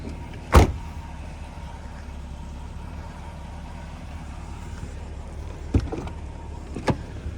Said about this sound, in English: Then you have the corner window that rolls up as well.